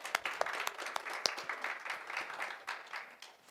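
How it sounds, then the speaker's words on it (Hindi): A small audience claps at a talk show event in Himachal, a brief patter of scattered hand claps that thins out over a few seconds, with no voices over it. "एक बार ज़ोरदार तालियां हो जाएं इस बात पर"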